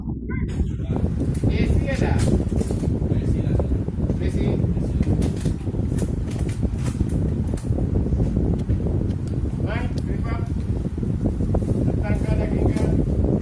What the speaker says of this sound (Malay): Rakaman masih lagi berbunyi angin ya, kipas.